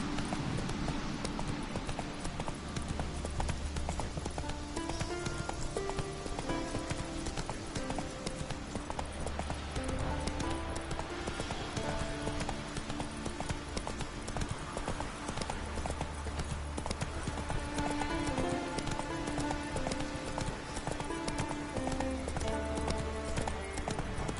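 Hooves beat a steady, rapid clip-clop as a horse gallops in The Witcher 3, running continuously throughout over a dense layer of game music.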